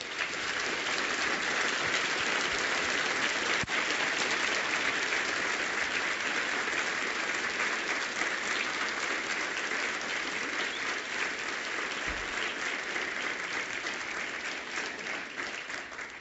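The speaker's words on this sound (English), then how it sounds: "I'd like to ask everyone to give Alex Miller a big hand." A conference audience applauds a speaker, Alex Miller, in a steady, dense wash of clapping that holds for about sixteen seconds and thins slightly toward the end.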